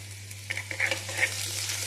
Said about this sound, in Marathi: कांदा छान परतला की आपण याच्यात लसूण अद्रकची पेस्ट टाकून घेऊया।